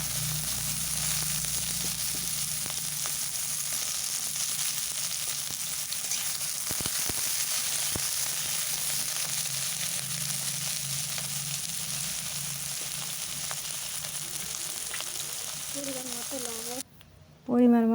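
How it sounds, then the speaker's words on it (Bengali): Eggplant pieces sizzle and fry in hot oil in a kadai, a steady broadband crackle lasting throughout, with a brief break and some clinking near the end. "সময় নিয়ে 5 থেকে 6 মিনিট সময় নিয়ে আমি ভালোভাবে বেগুনগুলো ভেজে নেব।"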